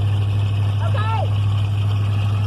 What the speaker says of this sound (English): Going to go get the mufflers done. It's loud as hell in here.